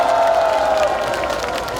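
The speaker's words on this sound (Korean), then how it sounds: "다시 한번 큰 박수 부탁드립니다" A crowd at a Korean election campaign rally in Changwon applauds steadily with some cheering mixed in, a dense wash of clapping that carries on without a break.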